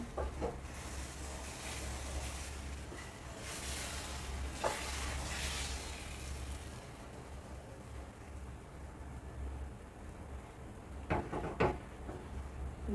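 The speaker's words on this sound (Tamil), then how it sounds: "ஆப்பம் ஊற்றிடலாம் கல் சூடாயிடுச்சு" Wheat flour appam batter sizzles on a hot griddle as a steady, moderately quiet hiss, with a few brief clinks of utensils near the end.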